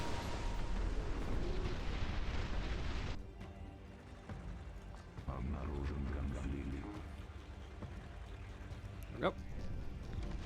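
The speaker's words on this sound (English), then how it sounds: "Alright, another airstrike." Airstrike explosions rumble through a Dust Front RTS battle, loud and dense at first, then cutting down to a lower rumble with scattered blasts and one sharp crack near the end, while someone talks briefly over the game sound.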